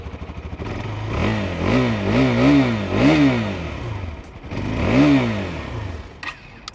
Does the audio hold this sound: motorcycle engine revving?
yes